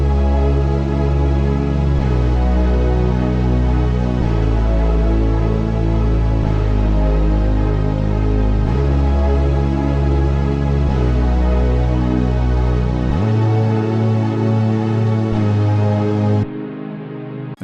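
Layered synths with a brass synth patch form a dense, loud, sustained pop production texture, with chords shifting every couple of seconds and a low bass dropping out near the end.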